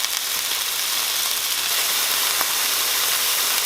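Pork tenderloin searing in hot oil, giving a steady, loud, close sizzle and hiss that runs without a break throughout.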